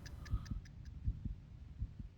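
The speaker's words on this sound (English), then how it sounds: "Clock. Oh, and I hear a heartbeat there too." A steady clock ticks alongside a slow heartbeat, each soft double thump recurring about every three-quarters of a second, with light ticks above them, quiet and without any talking.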